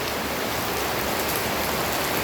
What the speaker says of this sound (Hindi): बारिश में भीजत भीजत क्या हालत है।